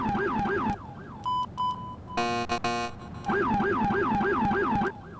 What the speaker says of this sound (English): Fed 6 smart siren with the rumbler and full NYPD.